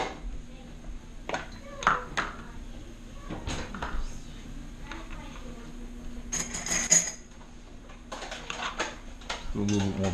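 Onion and celery dropped into a pot with butter while cooking venison shank osso buco, giving scattered clanks and light clatters of cookware and utensils under a person talking.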